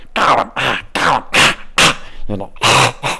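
A voice imitates coughing up a hairball with a series of rough, gagging, throaty hacks in short bursts, close to the microphone.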